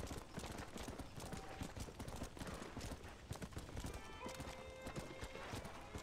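Horse hooves clip-clop in a rapid, steady galloping rhythm in the Red Dead Redemption video game, with a brief whinny in the mix and quiet, even loudness throughout.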